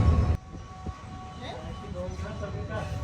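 A Pakistan Railways locomotive approaches a station platform beside a parked express train. A steady low rumble with a faint tonal hum rises from a distance after a brief loud knock at the start.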